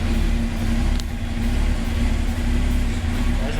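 A Suzuki Gixxer motorcycle engine idles while warming up, giving a steady, even low hum that stays close and constant with no revving.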